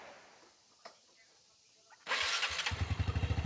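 A Yamaha Mio scooter engine under repair of its worn roller housing starts after a quiet stretch with a faint tap, then runs loud and close with a rapid pulsing putter for the remaining second and a half.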